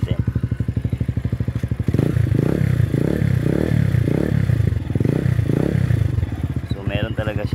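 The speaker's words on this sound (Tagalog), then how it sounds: "ito na yung tunog niya without silencer" A SKYGO BOSS 150 motorcycle engine runs with its silencer removed, idling with a steady putter, then revving in several loud, rhythmic bursts before settling back to idle.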